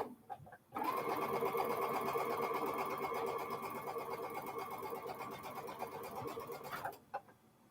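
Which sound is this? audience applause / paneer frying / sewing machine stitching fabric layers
sewing machine stitching fabric layers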